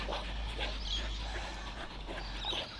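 Dogs at a skate spot give soft whimpers and yips, faint and partly buried under steady low wind rumble and broadband outdoor noise.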